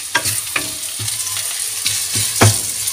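Onion frying in a pan, a constant sizzle broken by repeated scraping strokes of a utensil every half second or so, close and alone without talk.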